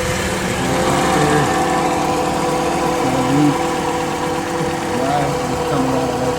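A 2004 Honda Accord with the 2.4 engine runs steadily after an oil leak repair, a continuous mid-pitched idle hum with a faint knocking texture, close by and fairly loud, with a voice briefly talking over it.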